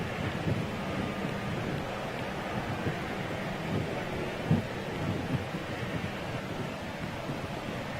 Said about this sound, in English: Okay, Rain, just hold off for a couple more minutes, would you